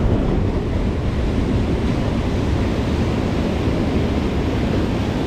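Ocean waves break on the shore during sea bass fishing from the beach, a loud, constant roaring wash mixed with heavy wind buffeting on the microphone, with no talk.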